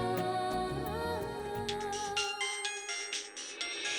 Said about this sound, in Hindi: कबीर मियाँ का फोन आ रहा है। अरे फोन उठाइए ना। Video call.